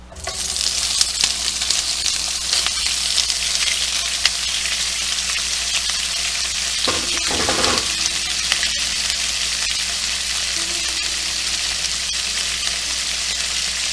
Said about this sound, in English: once that oil heats up, we're going to add the sausage down to medium low